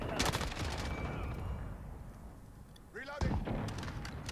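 Gunfire in Call of Duty: Modern Warfare (2019), heard as dense bursts of rapid shots at the start and again after a short lull, fairly quiet, with muffled voices mixed in.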